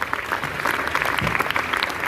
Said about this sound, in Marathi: मला असं वाटतं टाळ्या वाजवायला पाहिजे होतं तुम्ही